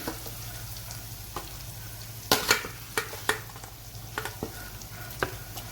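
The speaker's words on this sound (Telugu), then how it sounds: "ఉల్లిపాయలు దగ్గరికి వేగిపోయేవి." Onions frying in a pan for a chicken curry, a steady low sizzle running throughout, broken by several sharp scraping stirs and clinks of a spoon against the pan.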